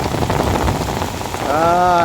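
Heavy rain pours onto a garden in a hot spell, a dense close hiss of drops on leaves and ground, briefly joined near the end by a tonal sweeping sound.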